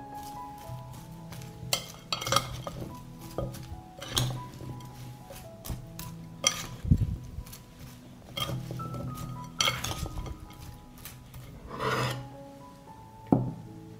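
Dry organic seasoning stirred in a bowl, with repeated raspy scrapes and light clinks of a utensil against the bowl, up close and unhurried, with no voices.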